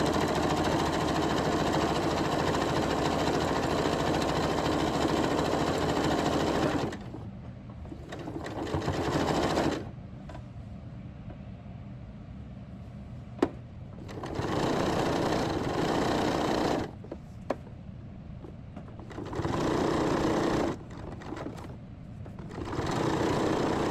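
Sewing machine stitching a messenger bag without pins, running in several steady bursts of mechanical whirring separated by short pauses, loud and close.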